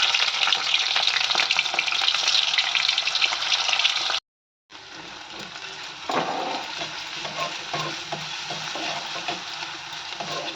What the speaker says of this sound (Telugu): ఇలా కలుపుతూ ఉంటే గోల్డెన్ కలర్ వస్తాయి ఉల్లిపాయలు